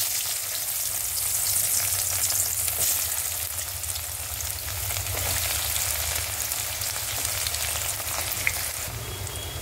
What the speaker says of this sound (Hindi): सारी सब्जी को हमें फ्राई करना है।